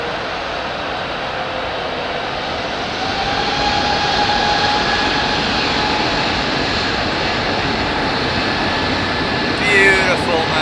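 A Qatar Airways jet with Pratt & Whitney engines passes with a steady broadband roar that swells partway through and stays loud, faint tonal whines riding over it, and a brief rattling noise near the end.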